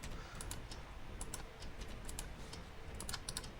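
Steady clicking of a computer keyboard while code is typed, a rapid run of light keystrokes with small pauses, close up over faint room hiss with no talking.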